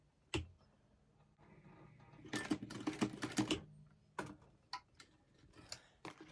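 A sewing machine runs a reverse stitch on fabric for bag straps: a faint, quick mechanical ticking that builds into a busier, louder stretch of clattering stitches near the middle, then trails off into scattered taps.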